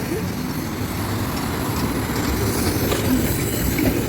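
An Odesa tram rolls past on a city street, a steady rumbling rail noise with faint wheel clatter holding at an even, fairly loud level for the whole stretch, with no one talking over it.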